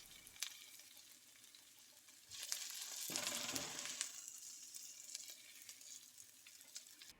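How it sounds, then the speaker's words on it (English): Onions fry in a wok, a quiet, steady sizzle that swells louder for about two seconds in the middle, then settles back to a soft crackle. "here are the onions after about an extra 10 minutes of frying."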